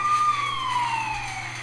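A police car siren in the mobile video game The Offenders wails loudly and steadily in a single gliding, descending tone over a low engine drone, with no one talking.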